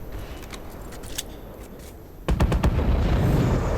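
Gunfire in the Warface video game during a Blackout mission, with a muffled, distant rumble of shots at first and then a sudden burst of heavier, louder fire.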